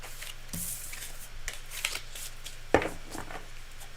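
A deck of tarot cards being shuffled by hand, with a run of riffling, slapping card sounds and one sharper snap, close and fairly quiet.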